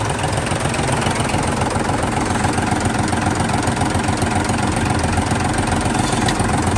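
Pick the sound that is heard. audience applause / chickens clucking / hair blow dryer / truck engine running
truck engine running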